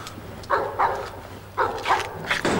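A dog barks in a few close, sharp woofs, two pairs of quick barks with a final yelp, over a low background hum, with no talk.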